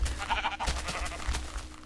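Sheep bleating in the Minecraft video game, a short wavering bleat near the start over a steady background of game music and ambience.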